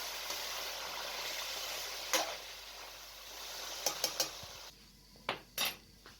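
Chicken and tomatoes frying in a karahi give a steady broadband sizzle, with a few sharp metallic clinks of a utensil against the pan scattered near the end.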